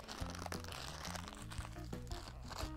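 Wrapping paper crinkling and crunching during the unboxing of Walmart purchases, a soft, continuous rustle heard close up with faint background music beneath it.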